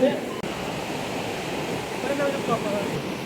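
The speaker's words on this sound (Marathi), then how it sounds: "बघा काय वाहतोय बघा धबधबा" The Marleshwar waterfall, heard as a steady, dense rushing roar of falling water that stays even and continuous, with a brief dip near the start.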